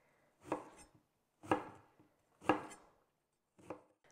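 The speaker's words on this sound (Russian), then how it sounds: "нужно их порезать на довольно такие крупные кусочки" A knife cuts eggplant into large pieces on a board, four crisp evenly spaced chops about a second apart, close and clear with no talk.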